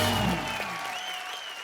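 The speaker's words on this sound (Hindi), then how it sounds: "जोरदार तालियां." Loud studio audience applause on a Hindi comedy talk show, a dense burst that starts strong with music and fades slightly over under two seconds, with a brief voice at the very start.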